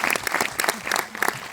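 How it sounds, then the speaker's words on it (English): Audience applause at a documentary film premiere talk in Los Angeles, a dense burst of clapping that runs steadily through the short moment with a few voices mixed in. "Round of applause for"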